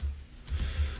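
Typing on a computer keyboard while writing an SMS message, a brief run of close, soft key clicks.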